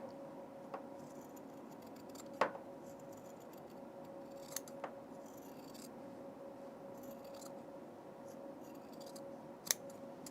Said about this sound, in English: A little bit of trimming we can do right here.